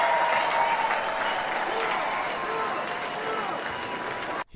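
A comedy crowd applauds loudly and steadily, with dense clapping that fades slightly before cutting off abruptly.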